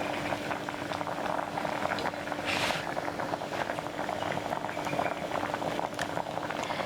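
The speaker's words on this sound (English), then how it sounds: "I'm going to cook the jackfruit for another 10 to 20 minutes or until the texture is soft." Jackfruit boils in a cooker with a steady, close bubbling and hiss that carries unbroken throughout, with no voices.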